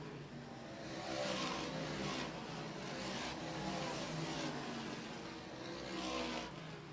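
Race cars roar around a dirt oval track, engines droning steadily and loud with swelling passes, no talk heard over the continuous motor noise.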